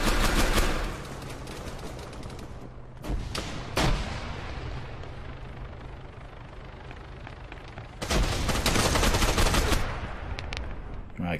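ASP rifle gunshots in the military shooter Arma 3 during a King of the Hill match, sounding as loud, booming bursts of rapid shots at the start, around three to four seconds and from eight to ten seconds, over a steady background hum.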